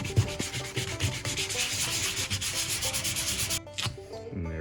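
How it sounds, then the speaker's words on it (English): Rough sandpaper rubs steadily back and forth across a plastic porch light cover for an RV, a dense continuous scratching that stays loud and close before stopping near the end. "And just taking some rough sandpaper,"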